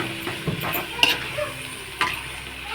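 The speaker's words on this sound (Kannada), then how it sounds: "ಇವಾಗ ಕಡಲೆ ಹಿಟ್ಟು ಹಾಕೋಣ. ಚೆನ್ನಾಗಿ ಮಿಕ್ಸ್ ಮಾಡೋಣ." A spoon stirs gram flour into capsicum curry in a pan over a low flame, giving soft scraping strokes and a few sharp clinks over a gentle sizzle.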